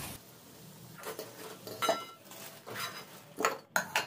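Fried potatoes for a Bengali muri ghonto are lifted from a pan with a metal utensil, giving a few short scraping clinks and taps against the pan, louder near the end, with quiet gaps between them.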